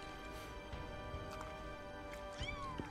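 A cat meows softly a few times in Final Fantasy VII Rebirth, the faint mews set against a steady in-game ambient background.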